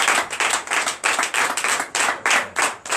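A church congregation claps rhythmically in unison during a night prayer service, loud and close, with steady beats roughly three per second.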